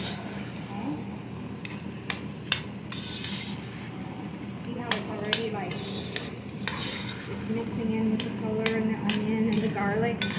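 Raw rice being stirred into tomato sauce with bacon in a pan, a close scraping and clinking of a metal utensil against the pan in irregular strokes, with a soft sizzle beneath and people chatting in the background.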